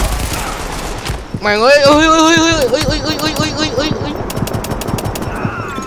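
Rapid automatic gunfire bursts loudly in Tom Clancy's The Division, dense fusillades crackling over a steady background, while someone shouts and talks excitedly over the shooting.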